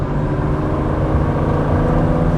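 A Ford GT Carbon Series engine accelerating, a loud, continuous throaty roar heard up close and steady throughout with no breaks.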